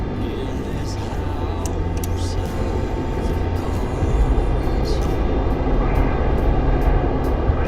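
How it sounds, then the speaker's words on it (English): A helicopter in a war video game makes a continuous engine drone that fills the scene, steady and fairly loud, growing slightly heavier partway through. "Oh, helicopter."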